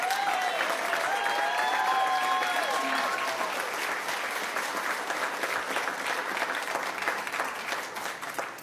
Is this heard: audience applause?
yes